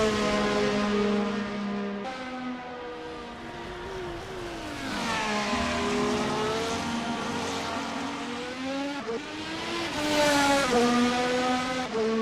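Scuderia Ferrari race car number 16 screaming down the back stretch at the Japan Grand Prix, a loud high-revving engine that rises and falls through gear changes, with a sharp upshift surge near the end.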